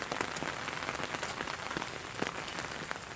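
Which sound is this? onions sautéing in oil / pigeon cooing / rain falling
rain falling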